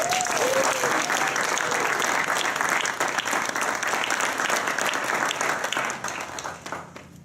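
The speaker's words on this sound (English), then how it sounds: "Give a round of applause to the white team, please." Audience applause at a pitch challenge event, steady crowd clapping held for several seconds, then thinning and fading toward the end.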